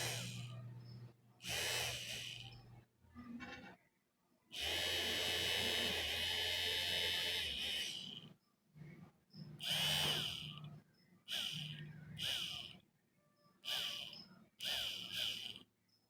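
A 775 motor drill powered by a 12 volt DC battery whirs in loud bursts, switched on and off about eight times with short silences between, including one longer run of roughly four seconds.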